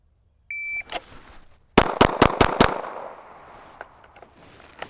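Several pistol shots fired in a fast burst during a timed drill at a shooting range, preceded by the sharp electronic beep of a shot timer; five loud, close cracks in rapid succession, then ringing echo and quieter handling noise.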